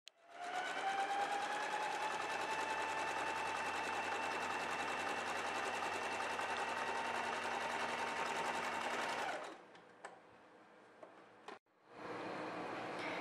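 A domestic sewing machine runs steadily for about nine seconds stitching straight and zigzag side seams on a baby outfit, a loud whirring hum that stops, followed by quiet handling and a brief restart.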